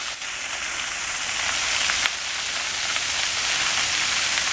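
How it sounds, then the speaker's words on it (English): Ice pellets falling and bouncing during an ice storm at 21 degrees make a steady, dense hiss of tiny impacts, continuous and fairly loud throughout with no voices. "You can see the ice pellets bouncing around."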